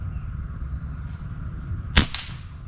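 M3 airgun fired through a Sidekick silencer at a paper target about 25 meters away: a single sharp, suppressed crack stands out against steady outdoor background noise, followed by a faint second tap.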